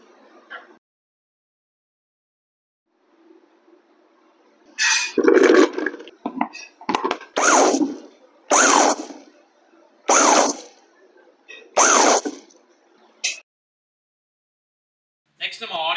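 A hand-operated pull chopper cuts coriander leaves, making a series of about six short, whirring rasps up close, separated by brief silent pauses.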